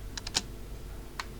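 A handful of quick computer keyboard keystrokes click close up, a small cluster followed by a pause and one more tap, over a steady background hiss.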